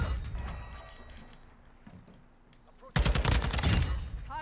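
Gunfire in Modern Warfare 2, a few scattered shots early, then a loud close burst of rapid automatic fire in the final second and a half, with game noise underneath.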